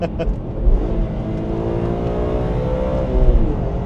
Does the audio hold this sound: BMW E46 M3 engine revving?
yes